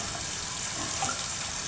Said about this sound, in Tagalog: Nilalaruan mo yung tubig.